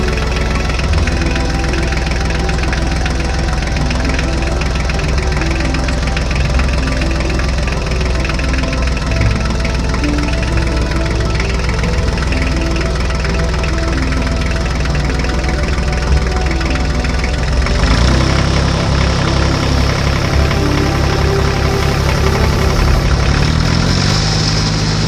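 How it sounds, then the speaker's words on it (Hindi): A tractor engine in a Hindi cartoon drones loud and steady with a knocking idle rhythm, shifting to a rougher, deeper tone partway through before running on continuously. "फिर रामू अपना ट्रैक्टर लेके अपने खेत में काम करने के लिए निकल जाता है।"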